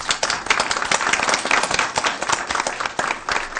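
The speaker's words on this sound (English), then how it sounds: "how about giving both of these young ladies another round of applause?" A crowd at a school board meeting gives a steady, fairly loud round of applause for two young girls, continuous clapping throughout with no talk.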